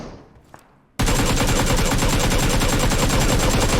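Automatic gunfire from the PUBG Mobile video game cuts in abruptly after a quiet moment, a loud, rapid, continuous burst of closely spaced shots that runs without pause to the end.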